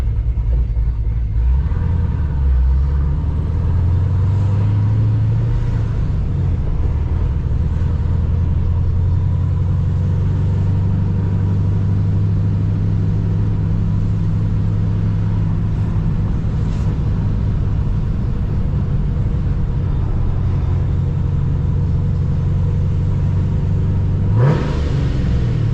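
A car engine runs steadily with a deep rumble, rising in pitch as it accelerates early on, then holding a strong even drone with a brief louder burst near the end.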